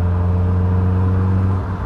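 A supercharged Caterham Seven 620S engine drones loud and close in a steady whirring tone for about two seconds, heard alone with no voices.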